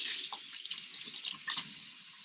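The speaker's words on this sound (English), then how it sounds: "I'm gonna go ahead and wash the tomato really quickly." A tomato rinsed under a running kitchen faucet gives a steady close splash of water, with small shifts in the spatter as the fruit is turned in the stream.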